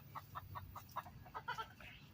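Pet geese give a series of about eight short, nasal honking calls in quick succession, close by and fairly steady in loudness, with no talking over them.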